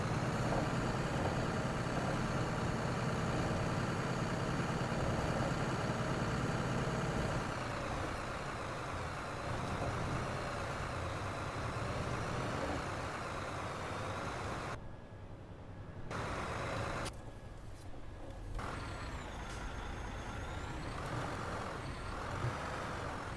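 Mack Anthem truck in American Truck Simulator, a steady droning diesel engine hum with a gearbox fault, shifting in tone partway through, with two brief gaps and faint beeps later.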